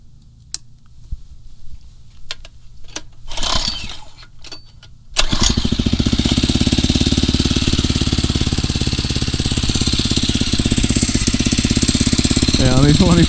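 A Phatmoto Rover 79cc motorized bicycle engine cranks with a few scattered knocks and rattles, then catches at once and settles into a loud, steady, buzzy small-engine putter that runs close by until the end.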